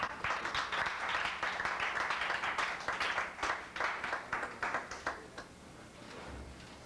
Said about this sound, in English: Please, a warm round of applause for Mr. Chad Crumm.